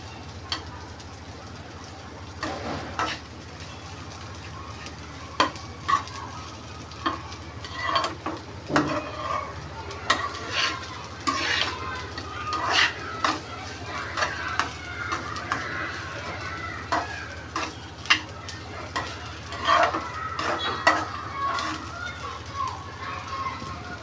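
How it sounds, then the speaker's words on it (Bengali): Rice for a quick chicken biryani is fried with cinnamon and stirred in a pan, giving soft scraping and light sizzling that runs steadily at moderate level, with faint bird calls in the background. "এখন হচ্ছে আমি 3 মিনিটের মতো ভেজে নিলাম"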